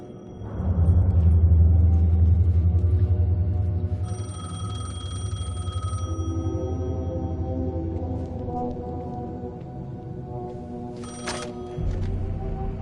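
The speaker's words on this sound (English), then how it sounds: "The phone was ringing." An old telephone rings inside the horror game Alan Wake 2, a steady repeating ring over a loud low droning rumble and eerie ambient tones, with no one speaking.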